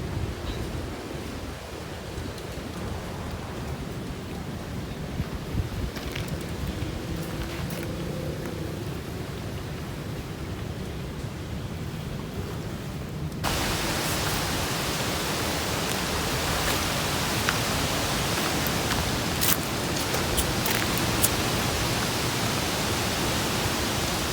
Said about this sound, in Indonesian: Bisa nggak? Angin.